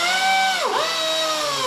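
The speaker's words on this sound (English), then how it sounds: "I've had this for decades. And it's a good one, 1/2-inch drill." A CP half-inch pneumatic air drill runs loudly at a steady whine, its pitch dipping briefly mid-run before recovering, heard alone in a machine shop.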